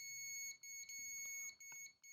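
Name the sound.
continuity beep when testing AC PCB terminal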